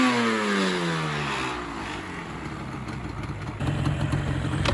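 A Yamaha Banshee ATV engine runs after a rebuild and sits near and loud. It rises in a brief rev with a falling harmonic sweep, then settles into a steady, rough two-stroke idle.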